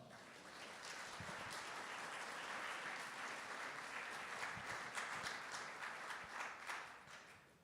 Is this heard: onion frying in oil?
no